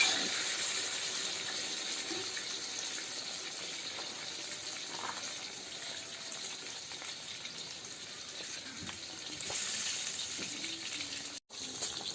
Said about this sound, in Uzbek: yaxshilab qovurib olamiz.